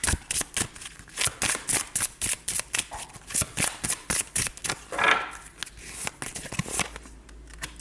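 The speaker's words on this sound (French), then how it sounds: "je vais retirer quelques cartes." Tarot cards are shuffled by hand in quick, crisp riffling bursts, a steady run of close papery flicks and slaps with brief pauses between them.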